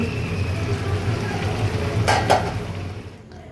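Food flipped and stirred in a sizzling frying pan during home cooking, a steady low sizzle with a brief burst of scraping and clatter from the utensil near the end.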